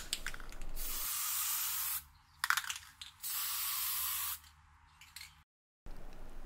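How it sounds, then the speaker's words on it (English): A spray can lays primer coats onto brake calipers for a BMW E30 in short hissing bursts, two long sprays and a few quick puffs, close and loud, with brief pauses between passes. "we are going to hit it again with more coats of primer to cover up the bare metal as well as build up more even surface"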